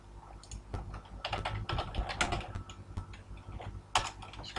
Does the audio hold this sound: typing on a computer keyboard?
yes